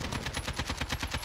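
An AK-47 fires in Call of Duty: Modern Warfare with a suppressor fitted, a rapid automatic burst of about a dozen evenly spaced, punchy shots, loud and close, with no voices.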